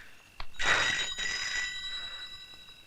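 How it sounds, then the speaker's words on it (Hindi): An old landline telephone rings in a Hindi action-horror film scene, a bright electric bell burst that starts abruptly, breaks off briefly and rings again, then fades, with no talk over it. "ले, आ गया तेरे बाप का फोन।"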